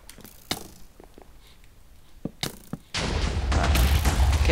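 In Minecraft, an opponent shoots at the player: several sharp, scattered impact snaps stand out over a quiet background, then a dense, loud rushing burst of game noise takes over for the last second and a half.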